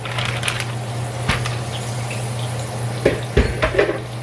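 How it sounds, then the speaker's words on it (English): Water runs steadily from a kitchen tap while hands are washed beneath it, a continuous close splashing hiss with a few brief clinks and knocks near the end. "I am going to go ahead and wash my hands"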